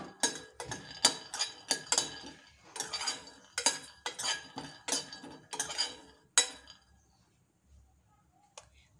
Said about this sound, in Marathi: शेंगदाणे सुद्धा थोडे भाजून घ्यायचे आहेत।